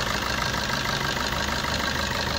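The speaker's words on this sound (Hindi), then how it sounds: "इंजन स्टार्ट है अभी" A Suzuki Swift with a 1.3 litre diesel engine idles at a steady, even rumble, heard up close with the bonnet open and no talking.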